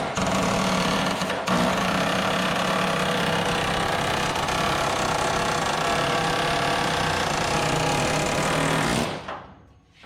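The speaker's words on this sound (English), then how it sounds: "Chisel." A power chisel cuts through the rocker panel of a 1955 Chevy gasser: a loud, steady, rapid mechanical hammering that runs continuously for about nine seconds, then stops abruptly.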